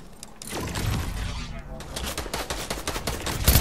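Gunshots in a Fortnite zone-wars match, a fast crackling string of shots with some voice sounds mixed in, fairly loud throughout.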